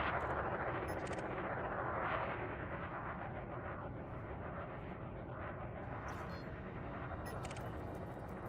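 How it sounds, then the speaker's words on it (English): Explosions and combat noise in the space game Elite Dangerous, a dense continuous roar with rumbling blasts layered over it, loud and steady throughout. "Sound like explosions and stuff."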